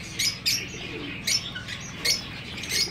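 White, diamond and silver doves in an aviary give soft, high chirps and calls in short repeated bursts, fairly close and clear over a quiet background.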